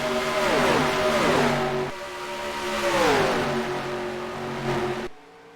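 Race car engines in the NR2003 racing game roar loud and close, with two sweeping pitch drops as cars shift and pass, a steady multi-engine drone between them, cutting off abruptly at the end.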